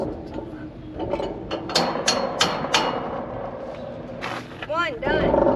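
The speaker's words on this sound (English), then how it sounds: "I need the hammer" Hammer blows ring out while a farmer fixes a fence outdoors, a cluster of sharp metallic strikes in quick succession near the middle, with people talking over the work.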